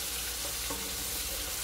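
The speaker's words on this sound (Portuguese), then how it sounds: "Cebola aqui na panela." Chopped onion sizzles steadily in a hot pan for a Sunday lunch, a constant close frying crackle with no voices over it.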